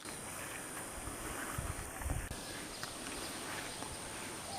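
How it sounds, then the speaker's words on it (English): Outdoor wind gusts steadily buffet the microphone at a 25-yard air-rifle shooting range, a constant loud broadband rush that swells briefly in the middle. "It's a little windy. It comes in gusts"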